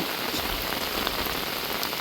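Heavy monsoon rain falls steadily in a village, with water draining off the house through a small drain. The wash is dense and continuous, close and even, with no voices.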